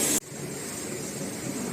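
A car engine that has just been started runs with a steady, even idle hum. The engine bay is dirty and being cleaned. A short loud burst opens the moment before the drone settles.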